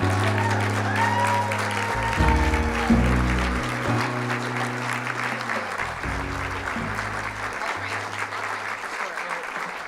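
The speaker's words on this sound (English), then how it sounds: "please join me in a warm welcome and a congratulatory applause for Lindy" Sustained applause from a large audience at an award ceremony fills the room, steady clapping with a low musical tone sounding underneath throughout.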